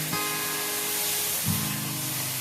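Milk poured onto hot fried semolina makes a loud, dense hiss that fills the clip, with a brief surge near the start and another at about one and a half seconds.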